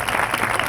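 Church congregation clapping hands together during worship, a dense, steady wash of applause lasting under a second with no pauses.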